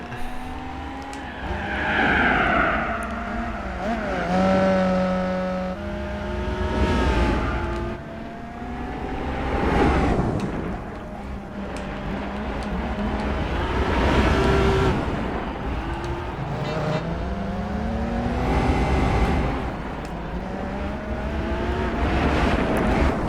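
Nissan Stagea 260RS racing off-road in Gran Turismo 4, with a continuous engine note rising and falling through gear changes, interrupted by repeated tire squeals and skidding on loose ground.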